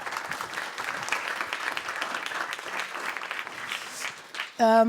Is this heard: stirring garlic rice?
no